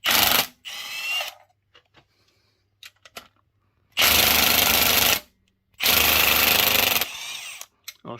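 A Milwaukee cordless ratchet on low-torque mode 1 spins a socket on a short Facom extension while working on a 1968 Camaro Yenko 427's six-speed gearbox: loud whirring bursts with pauses and small clicks between them.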